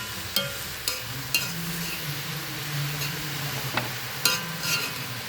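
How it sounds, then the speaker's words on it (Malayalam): Greens thoran of green beans and colocasia being stirred in a pan, with scraping spatula clicks and a soft steady sizzle running underneath throughout. "അപ്പോൾ നമ്മൾ ഇത് ഇളക്കിക്കൊണ്ടിരിക്കണം."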